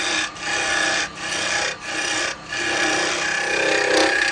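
Woodturning tool, carbide or gouge, cutting into a spinning wooden workpiece on a lathe: a loud, continuous scraping rasp broken by a few short pauses, heard up close.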